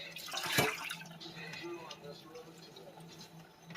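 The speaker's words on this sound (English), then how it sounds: "So, let's pour them back in our colander." Grated potatoes and water are poured into a colander, a brief loud splash followed by steady dripping and trickling as the water drains, heard close.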